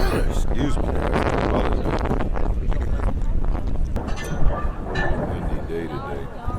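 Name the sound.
wind blowing at outdoor dog race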